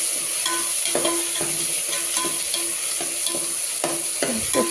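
Dal and tomato stirred in a hot pan, a spatula scraping and clacking against the metal at a brisk irregular rhythm over a constant close sizzle, no voices.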